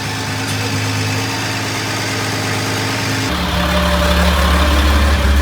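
A vehicle engine idles loudly and close while maneuvering to install a silver date palm, a steady rumbling drone that deepens and grows louder partway through as the engine revs.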